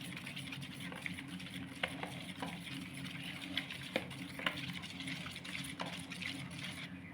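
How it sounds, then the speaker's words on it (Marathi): Cake batter being mixed by hand right after oil is added, a faint soft swishing with scattered light clicks of a spoon against the bowl. "तेल टाकूया 1/4. चांगलं मिक्स करून घेऊया."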